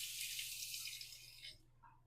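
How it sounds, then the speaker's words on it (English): Tap water runs in a steady hiss as a Mach 3 razor is rinsed under it, then cuts off abruptly after about a second and a half, leaving near silence. "Rinsing after every few strokes so it doesn't clog up."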